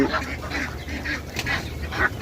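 Ducks on a duck farm in Bahrain quacking, a busy overlapping run of nasal quacks in quick rhythm, close and fairly loud, with no voices.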